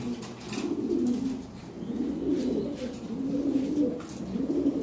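Toy Lahori pigeons, a top-quality pair on a Lahori Sirazi pigeon farm, coo in repeated low, rolling phrases, several in a row at close range with no talk over them.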